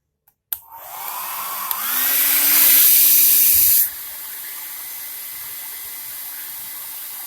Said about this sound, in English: Take a blower and start blowing it